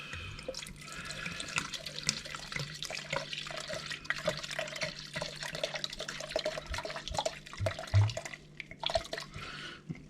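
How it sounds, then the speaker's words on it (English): Wine being poured from a bottle into a pot while making Swedish mulled wine (glögg), a steady liquid gurgle and splash running close and continuous, with no talk over it. "I will measure out another 400 or 500 mils of this other wine."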